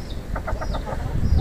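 Lakenvelder chickens and a rooster cluck in short, close bursts, a quick run of soft clucks with a faint high call over them. The whole sound is brief.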